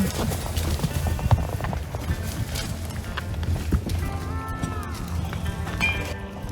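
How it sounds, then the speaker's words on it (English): Wild horses in the Okanagan desert near Osoyoo, British Columbia, clip-clop over ground in a continuous muffled patter amid wind and outdoor noise, with faint voices in the background. "They seem to be wild horses."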